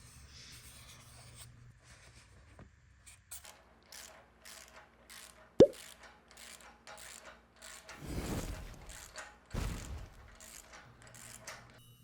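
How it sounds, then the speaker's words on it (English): A nut is tightened by hand on a D-ring fitting of a kayak trailer load bar: scattered close metallic clicks and ratcheting taps, one sharp knock, and scraping rubs over several seconds, with no voices. "it requires a little bit of dexterity to get your finger in there to hold that nut while you tighten it"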